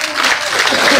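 A crowd at an outdoor village rally in Haryana claps and cheers in a loud, dense burst of applause.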